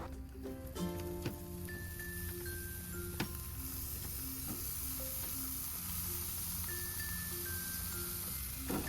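Fish, hotdogs and chicken barbecue sizzle on a hot home grill, a steady close crackle with faint ticking and stirring sounds, no voices.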